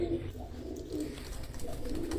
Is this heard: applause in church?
no